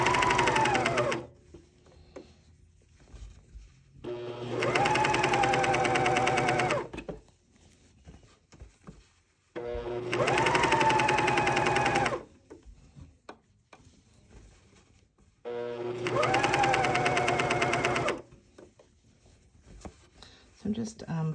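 A sewing machine stitches a knit neckband in four steady, close bursts of a few seconds each, with near-silent pauses between runs.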